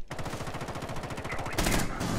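Rainbow Six Siege gunfire: close, rapid automatic shots pulse in a steady rhythm and swell into a louder, denser burst near the end.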